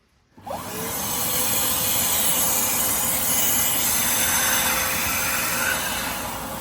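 Upholstery extractor vacuum sucking dirty water out of the seats of a Volkswagen Bora, starting abruptly after a brief silence and then holding a loud, steady roaring hiss close up.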